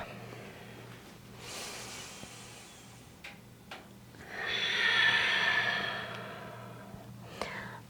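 A long audible exhale through the nose and mouth rises and fades in a quiet room during a yoga lizard pose, with softer breaths and small rustles before it.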